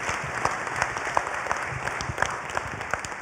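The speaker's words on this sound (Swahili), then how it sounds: "Makofi kwake." A crowd at a vigil for Maina Wilfred Olwenya applauds, a dense, steady patter of many hands clapping close by, with no voices over it.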